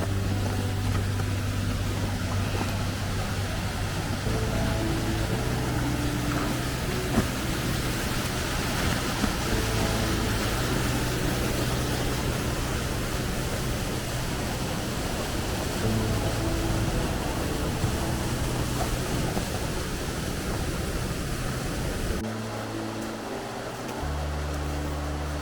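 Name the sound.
waterfall in an icy gorge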